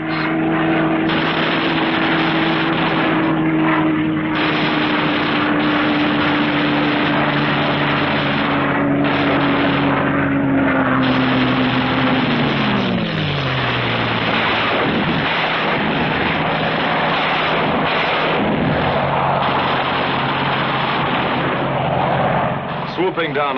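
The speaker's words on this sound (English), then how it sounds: "Skimming along at maximum speed, the fighters pair off and go to work cutting vital Jap lifelines, blasting away at communications" World War II fighter aircraft racing low at maximum speed on strafing runs against Japanese communications, a loud continuous roar of propeller engines with a descending pitch as one passes, mixed with rattling gunfire bursts, heavily compressed and under narration.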